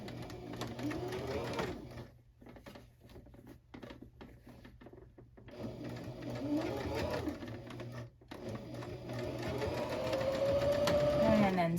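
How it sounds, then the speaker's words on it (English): A sewing machine stitches a dress closed in rapid, whirring runs of close needle patter, stopping briefly and starting again, with a person talking over the machine. "sew that sucker closed"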